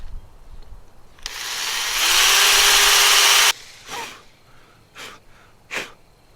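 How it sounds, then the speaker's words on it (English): A power drill bores out an old wooden handle stuck in the eye of a Swedish axe, one loud continuous whine of a few seconds, then stopping, followed by heavy breaths and brief scraping. "So let's drill this thing out, and hopefully I don't catch the inside of the axe eye wall there"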